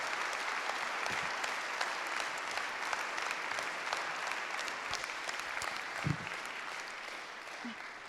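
A seated audience claps steadily through a municipal council session installing a new mayor, sustained applause in a hall with a few louder claps and a faint thump near the end.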